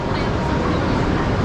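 Hokuriku Shinkansen high-speed train running, a steady loud broadband rumble and rush of motion that holds constant throughout without breaks.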